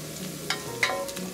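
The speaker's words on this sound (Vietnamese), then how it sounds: "Đợi dầu nóng thì mình cho hành tím đã băm nhỏ vào, phi lên cho thơm." Minced shallots sizzle in hot cooking oil in a pot, a steady crackling fry with a few sharp pops, close and continuous with no talking.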